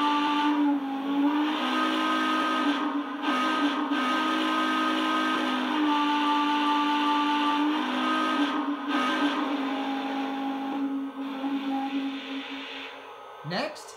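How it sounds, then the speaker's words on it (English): A long quillable whistle from a Lionel Legacy Frisco 4-8-4 Northern model steam locomotive blows continuously with shifting tones, loud and sustained for over ten seconds, ending with a brief hiss. "here's the quillable whistle"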